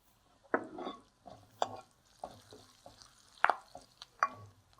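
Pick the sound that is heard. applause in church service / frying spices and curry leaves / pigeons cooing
frying spices and curry leaves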